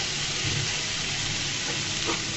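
Washed lentils added to a hot pan of frying drumsticks for a Bengali dish with eggs and masoor dal, a dense continuous sizzle with some stirring, close and steady.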